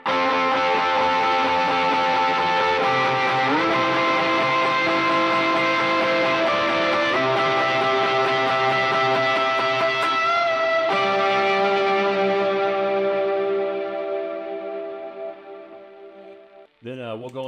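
Electric guitar riff played through green and blue pedals on a worship pedalboard, loud and sustained with layered distorted, echoing tones and shifting held chords, fading out near the end before a brief swell.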